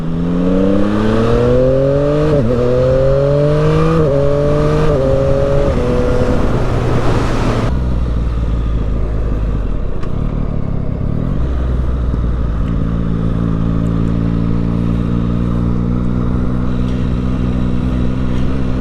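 A Yamaha MT-09 SP motorcycle accelerates through several rising gear shifts around Athens, Georgia, then eases off and settles into a steady cruising drone, loud and close with wind rush.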